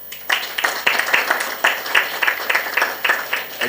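A conference audience at an antimicrobial resistance consultative meeting claps in a steady, even rhythm of distinct hand claps, moderately loud and close, lasting a few seconds before fading out.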